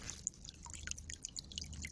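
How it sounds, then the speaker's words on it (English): Small backyard waterfall fed by a 6 W solar pump, water trickling and dripping over rocks in quick, light, irregular drips, close and soft with no voices. "lovely little trickling sound there."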